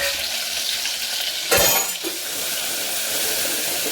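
Green chili thecha hits a pan of toasted cumin with a sudden loud sizzle, after a soft background crackle of frying, then the hiss settles into steady frying with a few light clinks.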